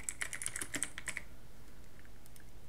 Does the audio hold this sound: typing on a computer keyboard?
yes